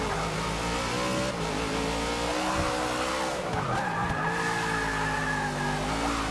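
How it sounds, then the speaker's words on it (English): Car drifting with loud sustained tire squeal in Forza Motorsport 6 at Bathurst, a damaged race car's engine droning steadily underneath throughout, close and continuous with no talk. "Too much drifting on that one."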